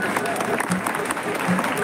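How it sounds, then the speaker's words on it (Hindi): Sustained clapping from an audience at a boys' school ceremony, busy and even throughout, with voices and hall noise mixed in. "लगातार तालियां"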